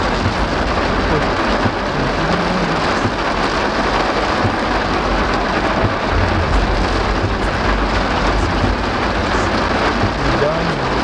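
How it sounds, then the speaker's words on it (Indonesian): Heavy rain drums continuously on surfaces nearby, a thick even wash of patter and splashes with a low rumbling undertone and no breaks throughout. "Nah, kan hujan-hujan."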